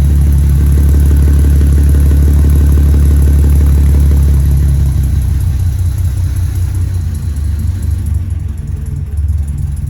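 A 1920s Talbot Darracq pickup truck engine runs steadily after starting, a loud, close, rhythmic low idle with faint mechanical clatter that continues throughout.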